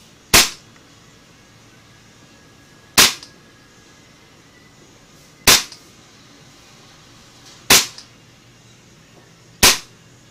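A KJW 10/22 airsoft rifle fitted with a DIY valve spring fires five sharp, loud, evenly spaced shots, each a crisp crack about two and a half seconds apart, against near silence.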